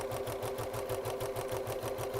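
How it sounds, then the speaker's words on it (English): A sewing machine runs steadily, stitching along a length of cord with strong thread, its needle tapping in a fast even rhythm under a continuous motor whine, close and moderately loud. "Then you're going to sew along the length of your cord as long as you need it."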